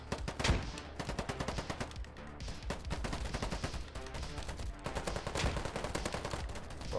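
Rapid automatic AK-74M rifle fire in the Ironsight shooter game, dense bursts rattling almost continuously for several seconds, close and loud.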